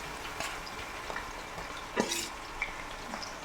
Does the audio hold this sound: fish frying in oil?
yes